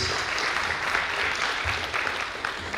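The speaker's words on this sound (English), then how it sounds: "So I would like everyone to give a big applause and welcome them to the stage." Steady audience applause at a brand launch event in Bengaluru, a continuous wash of many hands clapping at moderate volume with faint crowd murmur underneath.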